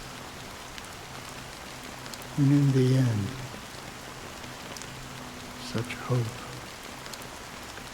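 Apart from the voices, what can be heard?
rain falling in video game Honkai: Star Rail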